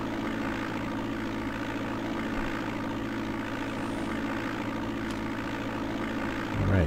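A steady, droning propeller aircraft engine cruising in flight in the DOS game Flight Simulator 5.1, a constant low hum that stays even throughout with no voices.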